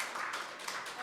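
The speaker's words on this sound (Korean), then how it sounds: "뜨거운 박수로 환영해 주십시오." Audience clapping warmly to welcome a speaker at a public debate on paternity leave, a dense, even burst of applause lasting about a second with no talk over it.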